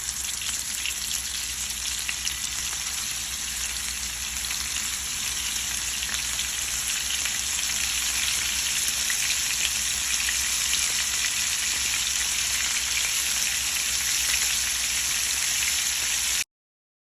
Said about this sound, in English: I added some oil to the skillet, okay? Just need a little bit of oil. And now we're gonna add the scallops.